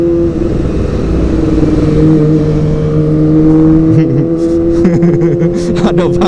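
Kawasaki ZX-25R motorcycle with a Prospeed Shark exhaust, loud and close, holding a steady high-pitched rev that climbs and wavers, with sharper blips near the end over street traffic.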